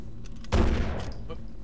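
A single sharp gunshot from an armed enemy in the video game Condemned: Criminal Origins, loud and close, followed by a short decaying tail.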